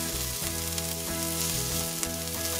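Hot pimento peppers sauté in a pan with a steady, close sizzle that runs unbroken under soft background music.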